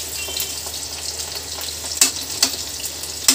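Flour-coated chicken pieces for chilli chicken frying in hot oil at medium heat, a steady close hiss and bubble with a few sharp clinks of a utensil near the end.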